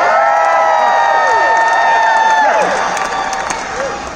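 A large crowd cheers and whoops at the Hollywood Bowl during a concert, loud and sustained with high shrill whistles and shouts that ease off toward the end.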